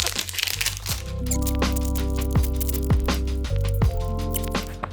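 Taped cardboard package of product samples being torn open, with sustained crinkling, crackling and ripping of tape and cardboard up close, steady and fairly loud with a few sharper tearing snaps.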